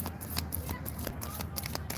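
Quick riffling of oracle cards being shuffled, close and soft, in a brisk rhythmic flutter.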